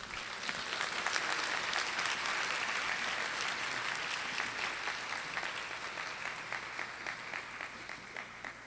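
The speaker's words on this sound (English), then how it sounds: "How about a collective round of applause for all our veterans?" A crowd at a spring honors recognition ceremony applauds veterans, a dense, steady round of clapping that holds for several seconds and gradually thins toward the end.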